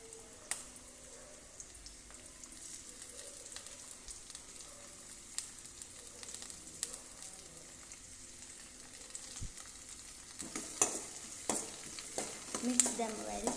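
Potato tomato curry stirred and frying in a pan, with a steady low sizzle and scattered scraping stirs that grow busier and louder toward the end, close up with no talking.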